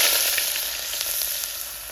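Cooking oil heats in a pot on the stove, giving a continuous bright hiss of sizzling with faint crackles and no talking.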